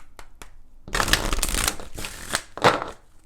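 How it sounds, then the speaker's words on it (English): Brisk tarot card shuffling close by: a couple of short riffles, then a dense burst of fluttering card noise in several pulses, with no voices. "let's do 3 shuffles"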